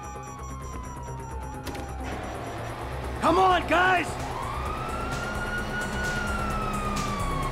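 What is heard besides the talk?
police car sirens in video game GTA V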